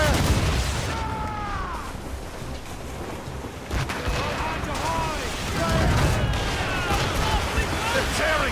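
Ship cannons firing in a naval battle in Assassin's Creed Rogue, a run of booming blasts and rumbling impacts under shouting voices and battle noise.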